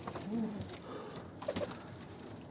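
Soft pigeon-like cooing from pet birds, a low murmuring call early on and a couple of brief coos later, over a quiet room background.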